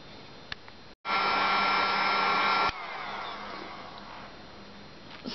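A dryer blows on craft work with a loud, steady whoosh that cuts in abruptly, holds for a couple of seconds, then drops to a quieter, continuous airflow.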